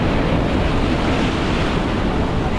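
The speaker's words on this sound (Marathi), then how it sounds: "लाटा आहेत ना मोठमोठ्या अशा लाटा देखील आपल्याला पाहायला मिळतात" Big sea waves breaking on a beach during a fishing and camping trip, a loud continuous roar of surf with wind buffeting the microphone throughout.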